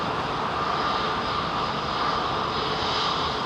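A Boeing 777 jet at London Heathrow, a continuous broad engine roar with a faint steady whine on top, close and even in level throughout.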